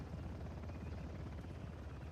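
A helicopter in the video game Uncharted: The Lost Legacy drones steadily overhead, a continuous low rotor rumble at moderate level with no break.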